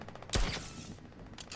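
A single sharp gunshot from a weapon in a shooter video game, loud and close, with a short ringing tail, set against quiet game ambience and faint ticking.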